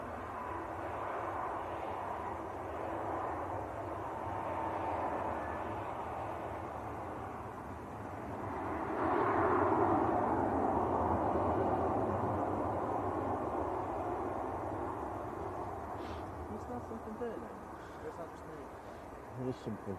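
A Ryanair airliner from Madrid at Manchester Airport rumbles in the distance, its engine noise swelling to a peak midway and then easing, under ongoing conversation.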